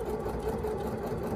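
A Bernette b37 sewing machine starts stitching to darn a hole in clothing, giving a steady, continuous mechanical hum and whir with an even motor rhythm, close up and without speech.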